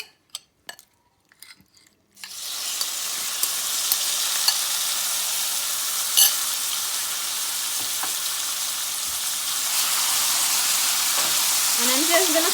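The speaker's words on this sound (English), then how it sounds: "So my oil is ready. I'm gonna add my shrimp in here." Shrimp dropped into hot coconut oil in a pan: a few clacks, then a sudden loud sizzle that holds steady and swells further, close and alone without speech.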